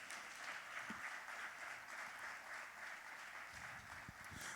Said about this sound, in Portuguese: Dê uma salva de palmas ao Senhor e diga glória a Deus.